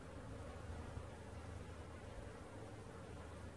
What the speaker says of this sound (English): that's the biggest bee I've ever seen